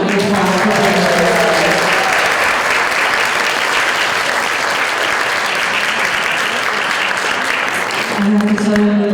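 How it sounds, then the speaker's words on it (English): A lunch audience applauds Yolanda, a loud dense wash of many hands clapping that holds steady for several seconds and tapers at the end, with a voice faintly over it. "Let's give her a huge round of applause for her."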